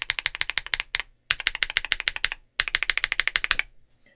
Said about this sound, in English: this is what the Akko sounds like.